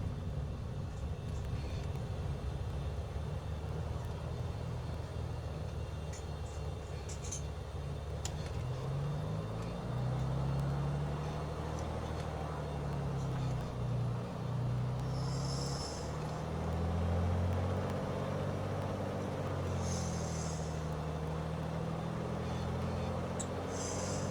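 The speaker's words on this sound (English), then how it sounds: "So I'm flying in a Beechcraft Bonanza today." Beechcraft Bonanza light aircraft on the runway, a steady loud engine drone heard from inside, with the pitch shifting and rising as it taxis and turns.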